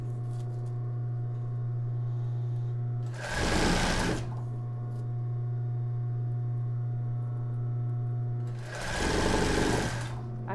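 Two short, loud runs of a sewing machine stitching embroidered tulle and elastic on a bra rise over a steady low electrical hum, each burst lasting about a second with quiet gaps between.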